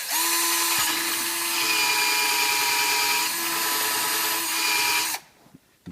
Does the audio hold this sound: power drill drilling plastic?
yes